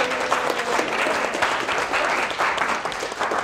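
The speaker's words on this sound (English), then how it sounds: "I would like all of you to give yourselves a round of applause." Sustained audience applause fills the room, dense and steady clapping from a large crowd at a university talk, with no voices standing out.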